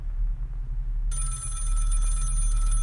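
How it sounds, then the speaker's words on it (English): A telephone starts ringing partway through, a sudden steady electronic ring that comes in over a low hum and holds to the end. "that phone hasn't rung once the whole time the show has been off the air"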